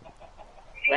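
Chicken clucking in the video game Minecraft, a brief quiet murmur that ends in one sharp, louder cluck.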